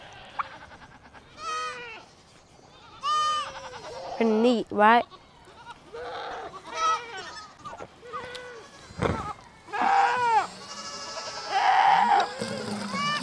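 Several farm goats bleat repeatedly at close range, loud wavering calls coming in bursts, mixed with a person talking in between.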